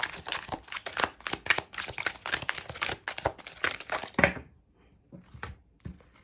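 Tarot cards are shuffled by hand in a quick run of crisp, close riffling crackles and slaps, ending in a few sparse soft taps as the shuffle stops.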